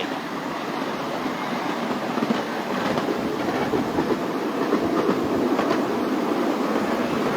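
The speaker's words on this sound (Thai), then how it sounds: "เดี๋ยวเรานั่งรถไฟก่อนหนึ่งรอบ" Small ride-on mini train running on its tracks under bamboo at a new café in Phanat Nikhom, Chonburi, Thailand, with a steady continuous rumble and rattling wheel clatter throughout, fairly close and loud, with no talking.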